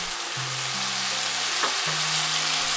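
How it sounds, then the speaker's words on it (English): Fried rice with fish sauce and light soy sauce is stirred in a hot pan for Thai basil chicken fried rice, giving a steady close sizzle with occasional scraping strokes of the utensil and no voices. "Stir for 2 minutes."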